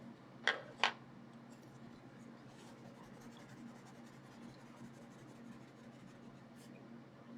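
Two quick scratchy strokes of a clay-based colored pencil on paper, then faint soft scribbling over a quiet background.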